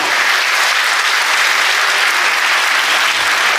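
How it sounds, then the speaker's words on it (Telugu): A crowd at an outdoor Hindu community gathering marking Akhand Bharat Sankalp Divas claps loudly and continuously, a thick, even wash of applause with no talking over it. "వారికి ఒకసారి చప్పట్లతో కళాదానాలు చేస్తాం"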